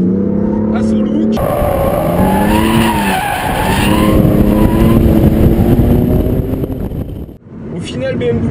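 A BMW M3 in Sport Plus mode accelerates hard with a loud, rising engine roar through gear changes and a rough, snarling exhaust that cuts off abruptly near the end, while someone talks over it.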